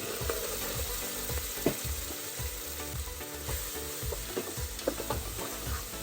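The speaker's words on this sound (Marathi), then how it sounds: "ते कढीपत्ता आणि लसण बघा चांगली फ्राय झाले" Curry leaves and garlic sizzle and crackle in oil in a pan while a utensil scrapes and stirs at a regular pace, fairly quiet and without voices.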